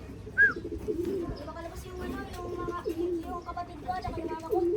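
Racing pigeons cooing in a loft, with repeated soft throaty coos and warbling calls overlapping close by, while people talk nearby.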